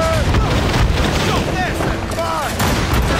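Naval cannons fire in the video game Assassin's Creed Rogue, heavy booms repeating over a rumbling sea-battle backdrop.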